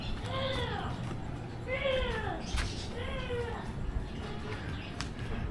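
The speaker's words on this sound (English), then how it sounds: "There's another cat. A lot of cats around here." A cat meows several times outdoors along a road, each call drawn out with falling pitch, moderately faint over a quiet background with soft ambient noise.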